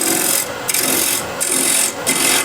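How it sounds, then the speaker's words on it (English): A negative rake scraper working a wooden piece being flattened at its foot, producing a loud continuous rasping scrape in steady strokes with brief pauses between passes. "I'm using the negative rake scraper at the moment."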